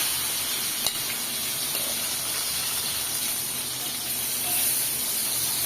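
Pieces of ash gourd fry in a pan with a steady, loud hissing sizzle that swells slightly toward the end, with one brief knock early on.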